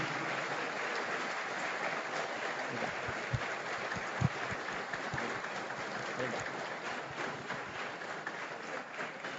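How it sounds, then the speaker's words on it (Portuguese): A church congregation applauds its teachers and children, a long, even spread of many hands clapping at a distance, fairly faint, with a few sharper claps standing out partway through. "uma salva de palmas os nossos professores e as nossas crianças recebem"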